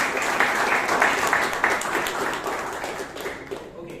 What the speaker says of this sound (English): A big round of applause to Mahaveer and